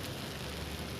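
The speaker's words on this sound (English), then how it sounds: "I'm going to drizzle in little bit of oil on the sides." Oil drizzled around an atta uttapam in a hot pan, giving a dense, even sizzle that holds steady and close throughout with no voices.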